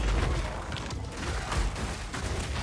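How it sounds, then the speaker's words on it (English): Spell explosions in Path of Exile 2 from a Titan Herald build with ice, fire and lightning slams, a dense, continuous barrage of booming blasts and crackling impacts, steady and loud throughout with no pauses. "it's very satisfying to see all the explosions on the screen"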